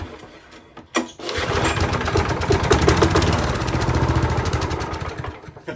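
Lawn mower engine after an engine swap starting with a sharp catch, then running hard at full throttle, a loud, rapid, rough chugging that holds steady until it fades at the end.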